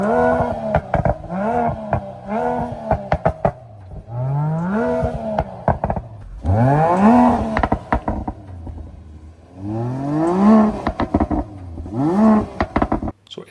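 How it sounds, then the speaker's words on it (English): Mercedes-AMG GLC 53 Coupe six-cylinder engine revved repeatedly through its new exhaust, each blip rising and falling in pitch with crackles between, then longer, louder sweeps up the rev range, close and loud with no talking. "let's go ahead and listen to the revs of this new Evo version of the 6-cylinder"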